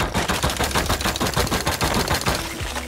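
Rapid automatic gunfire from a Rust video game, loud bursts of shots fired in quick succession without pause.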